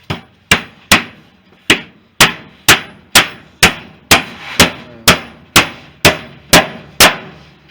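Hammer blows drive down wooden floorboards during a kitchen restoration. About fifteen loud, sharp strikes land close by at an even, steady rhythm.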